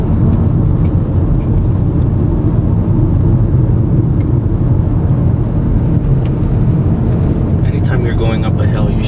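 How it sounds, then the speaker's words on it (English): A ten-year-old car's engine labours uphill on the curvy Pikes Peak road, a loud, steady low drone heard from inside the car while people talk over it. "And my car is struggling to keep up with the expedition."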